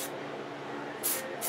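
Short hissing bursts of hairspray sprayed at hair roots, one near the start and two more toward the end, close up against a quiet background.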